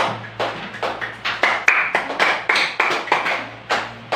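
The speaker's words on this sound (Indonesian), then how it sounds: "Kita beri tepuk tangan untuk Cecilia" A small group of children in an Indonesian fourth-grade classroom applauds in quick, uneven claps. The sound is close and fairly loud, with no talking over it.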